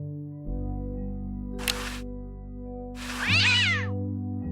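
A cartoon cat meows in the adventure game Day of the Tentacle, two separate meows over a steady low musical drone, the second longer and wavering.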